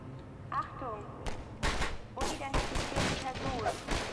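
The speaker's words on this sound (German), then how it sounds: "Wo schießen die denn schon wieder?" Bursts of gunfire in the video game Half-Life 2, with sharp loud volleys and rapid strings of shots clustered after the first second. Voices and other game sounds fill the gaps between the shots.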